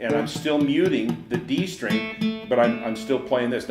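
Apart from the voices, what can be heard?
No everyday noises stand out.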